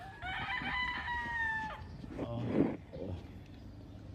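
Hens and a rooster on a Philippine farm, laying hens being conditioned with vitamins, give several short clucks and crowing-like calls close by, with a brief burst of noise midway and no talk over them.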